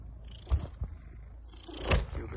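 A cat purrs softly and close up while being petted, a faint low rumble broken by a few brief rustles of hand on fur.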